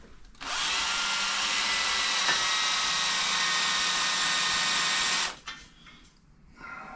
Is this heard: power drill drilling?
yes